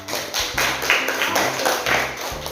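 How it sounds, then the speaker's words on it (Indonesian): A classroom of students gives a short burst of applause for a presenting group. The clapping is dense and steady, sounds close and lasts a few seconds. "kelompok lain silakan beri tepuk tangan atau aplaus untuk kelompok 4"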